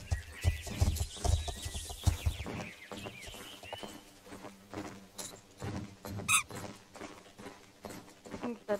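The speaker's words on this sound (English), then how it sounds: "Yeah, this is the new horse." Horse sounds in a video game while buying a new horse at a stable: irregular hoof clops and shuffling with a brief higher whinny-like cry near the middle, fairly close and loud, with voices talking throughout.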